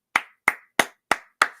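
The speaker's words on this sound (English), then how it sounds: "round of applause for Miss Veronica." Five sharp hand claps at a steady, even pace with short silences between them, loud and close, heard at a school vet report day event.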